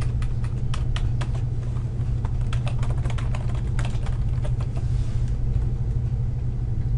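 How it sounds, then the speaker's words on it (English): Rapid keystrokes click steadily on a computer keyboard over a constant low rumbling hum, with no voices. "Type your name and a fictitious ID number."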